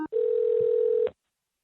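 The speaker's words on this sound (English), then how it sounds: "We're dialing the Stefandel home now." A single steady telephone tone of about one second, clear and close, as a call goes out to a home phone line during live primary election results coverage, then silence.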